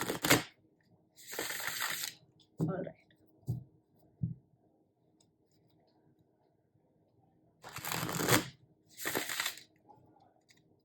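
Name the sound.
shuffling tarot cards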